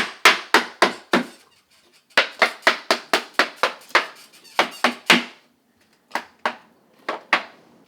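Sharp, ringing hammer blows land in quick bursts of several strikes, pausing briefly between groups, close and loud with no talking.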